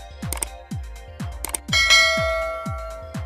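A bright bell-like ding repeats about six times in a steady rhythm, with one longer ringing chime near the middle, clear and alone without voices.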